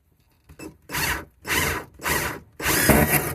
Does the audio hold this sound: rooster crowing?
no